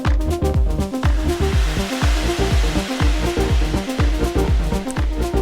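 Drums run through a long effect chain of grain delay and shimmer reverb, giving a dense, continuous wash with regular percussive hits and bright smeared tails, loud and steady throughout with no voice.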